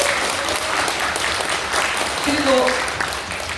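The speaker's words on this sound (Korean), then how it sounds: "추진위원장님께 박수 부탁합니다" Applause fills a room at a book launch event for a literary association in Daegu, a steady moderate clapping that runs throughout while a voice speaks over it.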